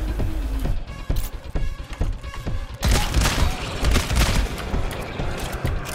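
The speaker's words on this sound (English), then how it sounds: "I can see my turret shooting them. You can hear it." A sentry turret in the video game GTFO fires rapid bursts at enemies, with loud crackling volleys and mechanical clatter that grow denser partway through, amid game noise.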